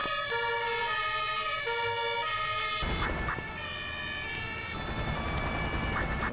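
Ambulance and fire engine sirens from a convoy in the Emergency 4 game with the Fuchsburg mod, overlapping wailing tones that shift in pitch, loud and continuous throughout.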